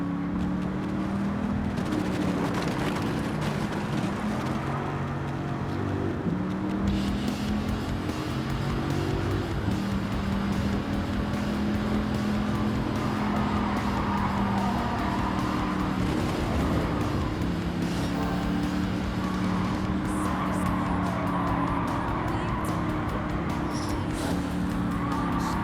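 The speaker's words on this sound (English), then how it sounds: "Look at that precision crashing." Dodge Viper GTS racing in Gran Turismo 7, a loud continuous engine roar with shifting pitch as it accelerates, plus tire squeals and skidding throughout.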